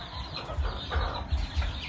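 Chickens on a farm cluck near a house, with a few soft, rhythmic clucks, fairly quiet and close, and no voices.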